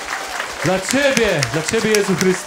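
A congregation at a youth prayer and worship meeting claps for Jesus, with fairly loud, even applause running beneath a voice calling out in prayer.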